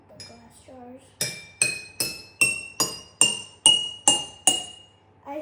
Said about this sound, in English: So now I'm gonna hit the glass jars.